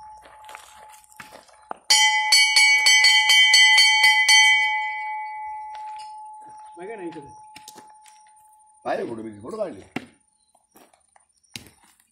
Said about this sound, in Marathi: काल दगडाच्या घंटा आणि आज आज वेगळ्या खरोखरच्या घंटेचा आवाज येतोय.